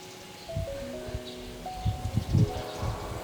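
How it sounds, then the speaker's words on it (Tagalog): Thin, high chirping birdsong comes and goes over a steady backdrop of strong outdoor wind and rustling, with a few low thumps. "Marami din kasi ditong ibon."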